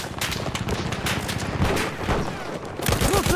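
Dense gunfire in the multiplayer shooter Battlefield 1, a continuous close fusillade of rapid shots and bursts that stays loud throughout.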